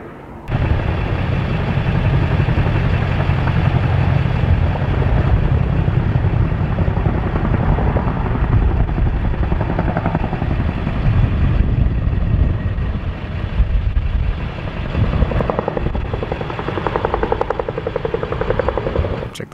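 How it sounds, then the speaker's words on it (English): A helicopter's loud, steady rotor roar and engine drone fill the whole stretch, close and continuous without a break, flying near Estes Park, Colorado, during the East Troublesome wildfire. "at least I got some good footage of the helicopters"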